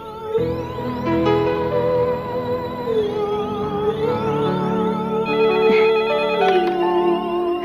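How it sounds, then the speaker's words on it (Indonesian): A telephone rings at steady volume with bright, repeating electronic ringtone tones and layered harmonics, sounding alone for about eight seconds with no talking. "Neng, telepon itu pasti dari Den Teto."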